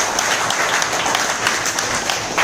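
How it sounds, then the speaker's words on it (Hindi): A crowd at a hotel gathering in Ahmedabad applauds, a loud, dense wash of many hands clapping continuously without a break for a few seconds. "जोरदार तालियां भरत भाई के लिए।"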